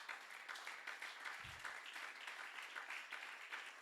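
A church congregation applauds in a steady, faint wash of clapping that carries on evenly from a distance, with no clear voices.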